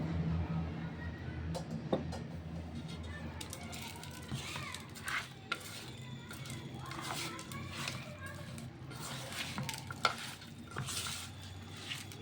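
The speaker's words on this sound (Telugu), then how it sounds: "ఇవన్నీ వేసుకొని బాగా మిక్స్ చేసుకుందాం." A spoon stirring mutton curry pieces coated with ginger paste, turmeric and spices in a pot, with soft scraping, a faint sizzle and irregular clinks running through the whole stretch.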